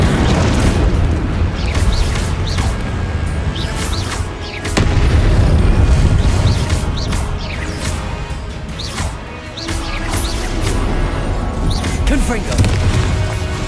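Fire-spell blasts and booming explosions crash out again and again during Hogwarts Legacy combat, loud and dense, with shouted spell incantations and rumbling impacts layered throughout.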